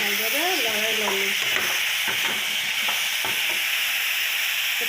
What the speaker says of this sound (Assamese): অলপ ভালদৰে লৰাই ল'লোঁ।